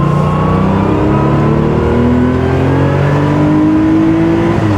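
A 1979 Porsche 911 SC Targa flat-six, freshly overhauled with reworked cam timing and valve jobs, revs steadily toward its 7,000 rpm redline, a loud, continuous rising drone with climbing harmonics and no talking.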